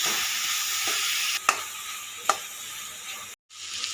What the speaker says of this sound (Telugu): ఇప్పుడు వీటన్నిటిని మనం మంచిగా ఉడికేంత వరకు ఫ్రై చేసుకోవాలి